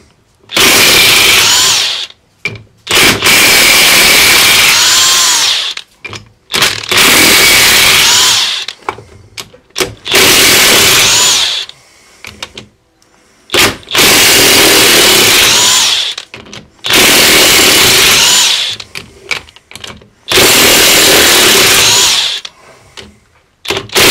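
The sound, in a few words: removing bolts from a Mopar A-523 differential ring gear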